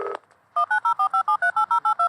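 Telephone dial tones in the video game Reporter 2: a rapid, even series of about twelve loud, clipped two-tone beeps following a brief burst of noise.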